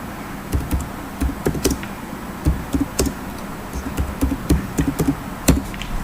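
Text typed on a computer keyboard, a steady patter of close key taps with brief pauses, heard over a constant low background hum and no speech.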